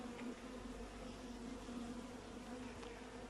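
Honeybees, black bees and Buckfast, hum continuously around an open hive during an inspection, a dense steady buzzing close by with no break.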